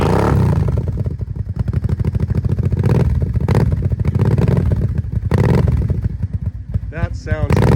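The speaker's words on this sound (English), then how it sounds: "we have a KFX Kawasaki 700 right here. This young lady's gonna fire up for us. It's got the dual exhaust." A Kawasaki KFX 700 ATV with dual exhaust idles with a loud, close, choppy rapid thumping, pulsing through blips of throttle, with a voice briefly heard near the end.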